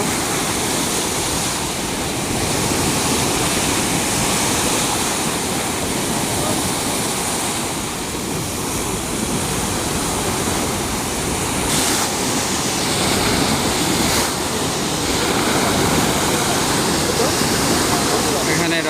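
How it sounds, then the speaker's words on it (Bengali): Water rushes through the Mohanpur rubber dam in Dinajpur, a loud, unbroken roar of torrent and spray close by, with wind buffeting the microphone and voices faint underneath. "পানির শব্দ"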